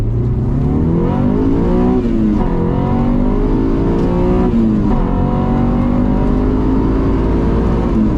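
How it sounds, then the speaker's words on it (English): A Honda Prelude's H22 VTEC engine winds up hard toward redline, loud and close, with rising pitch sweeps broken by quick dips as gears are shifted, then climbing again without letup. "As you send the engine to redline and make the next shift, it never falls out of VTEC, not in any gear."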